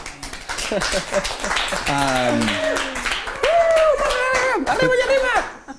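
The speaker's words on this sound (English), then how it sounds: "Round of applause, please." An audience at a photography workshop claps in a round of applause, with loud cheers and whoops riding over the clapping throughout.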